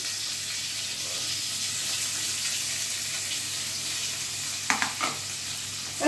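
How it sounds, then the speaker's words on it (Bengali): Paneer cubes fry in hot oil in a wok, giving a steady close sizzle that runs throughout, with a few sharp knocks and scrapes of stirring near the end. "তেলটা অলরেডি গরম হয়ে গেছে, তাই পনিরগুলো কড়াইতে দিয়ে দিচ্ছি।"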